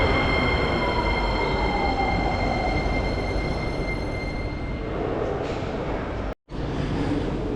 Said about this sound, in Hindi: ये है गाइस ट्रेन,